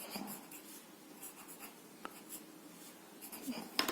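Pencil scratching across paper in quick drawing strokes during an art lesson, a steady close-up scribbling texture with a few sharper taps and scrapes near the end, no voices.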